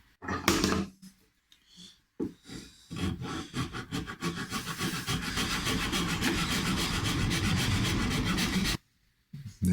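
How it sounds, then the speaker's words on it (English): A chemically polished flat file rasps along a binding under repair in repeated close strokes: a few scattered passes at first, then a steady, continuous filing run before it stops. "chemically polished file like this, I have a curved one as well, but the flat one in particular is becoming such a favorite tool of mine"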